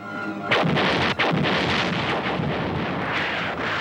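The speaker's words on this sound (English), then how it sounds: "Before dawn on September 15th, the naval guns began their deadly work." Naval guns pound a pre-dawn barrage on the Wolmi-do landing site in the Korean War, a sudden heavy blast followed by a continuous roaring rumble of gunfire with a brief dip, loud and sustained with no voices.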